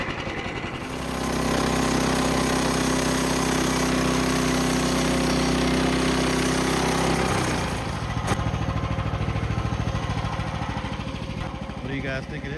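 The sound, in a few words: sawmill sawing a log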